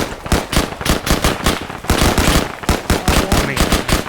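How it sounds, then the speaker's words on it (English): Dense bursts of video game gunfire crackle continuously in rapid, overlapping volleys during a firefight, loud and close with no pauses between shots. "They shot me, I'm shooting back."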